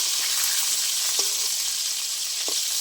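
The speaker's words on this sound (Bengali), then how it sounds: "এবার আমি মাছগুলো উল্টিয়ে দেবো।" Rohu fish pieces sizzle in hot oil, with a continuous close crackle and two short scrapes as they are turned over in the pan.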